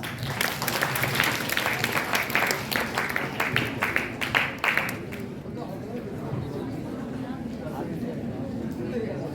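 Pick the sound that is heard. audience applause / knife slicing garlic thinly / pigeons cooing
audience applause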